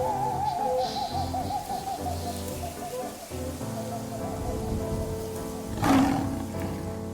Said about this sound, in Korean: 포효 소리와 함께 무투가 옆에서 완인이를 덮쳤다.